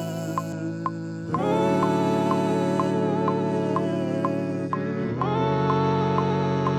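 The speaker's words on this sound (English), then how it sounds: "Let's throw mellow tape fi on it, and just to give it a little bit of lo-fi warbliness," Sampled choir chords given a mellow lo-fi tape warble, sustained vocal pads changing chord twice with a faint steady tick pulsing beneath, warm and slightly wavering.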